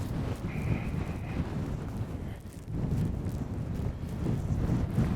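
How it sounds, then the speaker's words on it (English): Wind gusts outdoors in the Lake District, a low, steady rush buffeting the microphone that dips briefly midway, then swells again, with no talking. "Ooh, the breeze is picking up a little bit."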